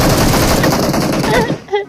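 Rapid automatic gunfire from the video game PUBG Mobile rattles loud and close in a dense burst, then cuts off abruptly with a short fading tail.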